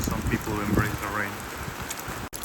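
Steady rain falls outdoors in the Netherlands, a dense continuous patter with some wind noise, while indistinct voices murmur underneath.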